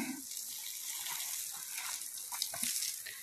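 Water is poured for an elephant to drink, a faint, continuous splashing and trickling with a few brighter spatters near the end and no talking.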